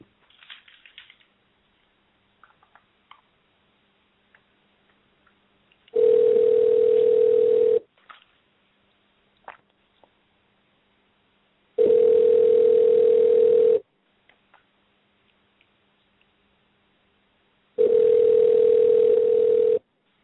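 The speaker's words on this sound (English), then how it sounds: "we're just about to get James Kirkland on the phone. We're going to bell him now" Three long, loud, steady ringback tones in a repeating pattern, each lasting about two seconds with pauses between, heard while a call is placed to a guest on a live combat sports radio show.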